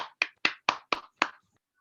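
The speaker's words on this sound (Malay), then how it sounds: "Bagilah tepuk tangan sikit." Six sharp, evenly spaced hand claps ring out at a motivational sales talk as a speaker is welcomed, crisp and close, with brief gaps between them and silence after the last.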